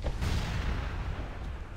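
A heavy ship's front cannon boom in Assassin's Creed IV: Black Flag opens, followed by a deep rumbling roar that lingers and fades slowly.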